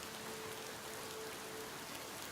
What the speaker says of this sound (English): I think the rain is following me.